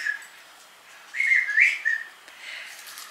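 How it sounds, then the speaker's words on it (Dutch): A small, thin whistle sounds faintly in a quiet room, a short wavering high tone that swells briefly and then fades. "jullie horen een klein fluitje"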